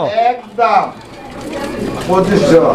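Fancy pigeons coo at a crowded pigeon market, two soft rolling coos heard near the mic at the start, with someone talking over and between them.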